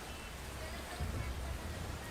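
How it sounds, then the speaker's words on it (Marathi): Heavy monsoon rain in Mumbai, with streets waterlogged from downpour since morning. It is a steady, even hiss of falling rain, fairly faint, with a low rumble swelling briefly midway. "सकाळपासूनच मुसळधार पावसामुळे रस्ते हे जलमय झालेले आहेत।"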